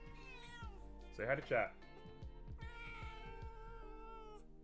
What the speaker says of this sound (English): I'm surrounded by cats!